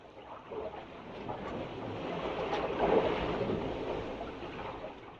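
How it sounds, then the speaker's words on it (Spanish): Ocean waves wash and churn steadily with wind gusting over them, a continuous broadband roar that swells slightly in the middle, heard from close by without any voices. "Estamos a merced de las olas y el viento."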